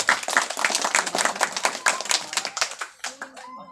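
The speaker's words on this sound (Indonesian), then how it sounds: "itu boleh dong tepuk tangan buat kita semua" Hands clap in a quick, uneven burst from a small group at a talk about Gembyung traditional arts, sharp close claps that thin out toward the end as a voice begins speaking.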